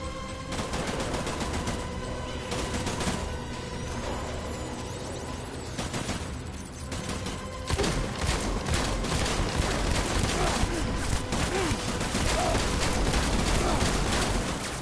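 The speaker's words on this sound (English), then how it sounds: "I've just unloaded shotgun into Clifford at least." Dense, continuous gunfire from Death Stranding fills the scene, a chaotic barrage of overlapping blasts and booms that swells louder partway through, with no gaps between shots.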